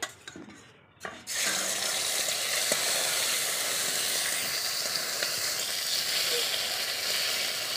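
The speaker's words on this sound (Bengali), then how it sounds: "ওই মাছটার মধ্যে এই যে চর্বি ছিল, চর্বি কিনেছি। তো এটা এমনি ভেজে রেখে দেব।" American fish fat frying in oil, a steady loud sizzle that starts after a second of quieter handling noise and keeps crackling evenly to the end.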